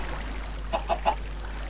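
Three short clucks from a Minecraft chicken, spaced evenly about a sixth of a second apart, moderately close over a quiet game background with no talk.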